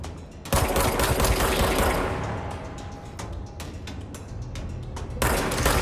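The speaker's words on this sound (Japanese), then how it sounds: "グレネードっぽかった今の。" In the video game Control, rapid gunfire crackles amid a loud explosive burst, with sharp repeated shots rattling over a dense, rumbling blast that trails off and surges again at the end.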